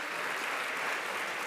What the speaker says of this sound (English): give yourselves a huge round of applause for just being here